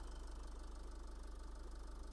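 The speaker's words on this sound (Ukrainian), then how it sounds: "Мотор працює рівнесенько" A 2012 Nissan Qashqai 2.0 dCi diesel engine ticks over at idle with a steady, even low rumble and rhythmic diesel clatter, close and continuous throughout.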